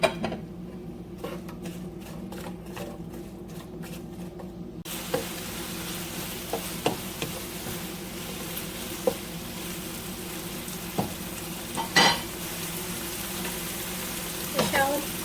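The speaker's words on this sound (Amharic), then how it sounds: "ከዛም ዘይቱ ሞቅ ሲል ሽንኩርቱንና ካሮቱን አርጌ እጠብሰዋለሁ።" Onions and carrots fry in hot oil in a home kitchen, a steady low sizzle with occasional stirring clicks and scrapes, quiet and close, with no talk over it.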